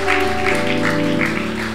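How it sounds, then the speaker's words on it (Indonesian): Church congregation applauding during a sermon, a steady wash of clapping over sustained organ-like musical tones, loud and continuous throughout. "Yang percaya kita berikan tepuk tangan bagi Allah kita, saudara."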